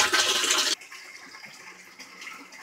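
Water rushing and draining in an aquaponics greenhouse system, a loud gush that cuts off abruptly, then softer trickling and gurgling flow with no talk.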